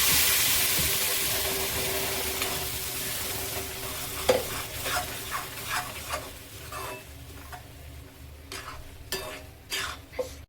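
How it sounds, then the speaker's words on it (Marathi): Cooked whole masoor lentils are poured into a hot tempering and stirred, with a loud initial sizzle that fades, followed by repeated spoon scrapes and clinks against the pot, close up and with no talking. "आपण जो मसुरा शिजवून घेतलेला तो त्याच्यामध्ये ओतून घ्यायचा"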